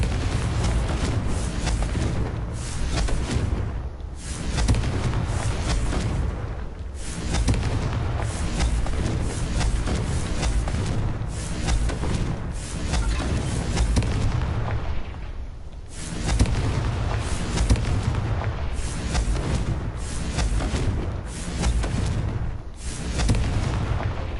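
Repeated Confringo blast spells going off in Hogwarts Legacy, a dense run of loud booming explosions and crackling bursts that roll on almost continuously, with brief dips between volleys.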